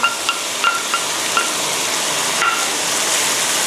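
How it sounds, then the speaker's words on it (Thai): Yogurt and ground spices (cinnamon, cumin, coriander seed) are stirred in a hot frying pan, with a steady close hiss and sizzle. A few scraping taps of the spatula come early, then the frying continues evenly. "ตอนนี้ก็ผัดให้เข้ากันนะคะ"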